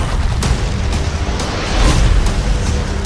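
Deep rumbling booms and bursts from Independence Day: Resurgence roll continuously, loud and dense like a blockbuster explosion sequence, with sharper cracks popping through now and then.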